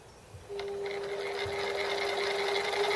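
A home-built Gingery milling machine starts up after a half-second and runs steadily with a constant motor hum and a bright whine, close and loud, with no talk over it.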